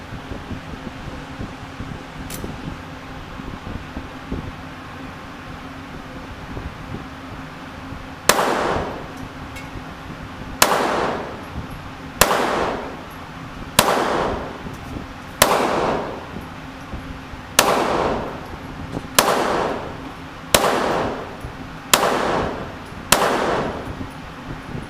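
An EAA Tanfoglio Witness Pavona .380 pistol fires a mixed magazine of different ammunition types outdoors: about eleven loud, sharp reports spaced roughly one to two seconds apart, each trailing off quickly, over steady wind noise.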